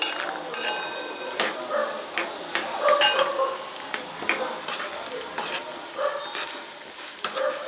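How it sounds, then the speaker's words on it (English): Cashews and raisins sautéing in a pan for rice kheer, a steady soft sizzle with frequent stirring scrapes and light clinks of a spoon against the metal, close and continuous without any voice. "Let's saute this till cashews get golden and brown."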